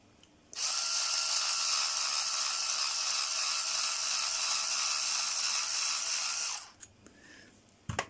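A steady high-pitched mechanical whir of a screwdriver turning slowly into plastic runs for about six seconds, then stops, followed by a few faint clicks and a small knock.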